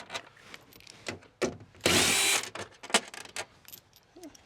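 Power tool briefly spinning out 8mm bolts from the inner wall of a 2023 Ford van, one loud half-second whirring burst set among nearby clunks and handling noises.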